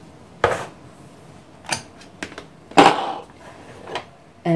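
A metal teapot and small tea glasses clink and knock while Moroccan mint tea is rinsed, with several sharp separate clatters spread out irregularly, close and fairly loud, in an otherwise quiet room.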